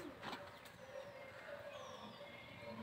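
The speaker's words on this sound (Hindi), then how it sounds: "देखो कबूतर जो छत पे आ गए" Pigeons on a house rooftop at evening coo softly in a faint, distant murmur over quiet ambient background noise, with no talking.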